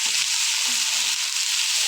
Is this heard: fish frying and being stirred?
yes